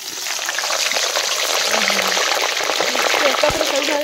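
Cabbage frying in hot oil, a steady loud sizzle that runs throughout.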